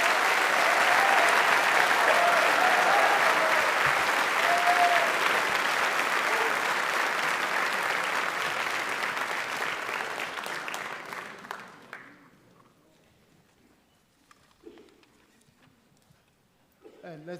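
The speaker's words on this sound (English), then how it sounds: "let's give all the graduates a round of applause" Loud, sustained applause from a crowd honors graduates at a graduate school of management hooding ceremony, fading out after about twelve seconds into quiet room tone with a few faint voices.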